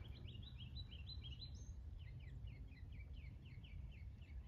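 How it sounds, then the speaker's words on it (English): Birds call from a distance in a quiet park woodland, repeated faint high chirping phrases over a steady low background rumble. "There's birds over there talking now."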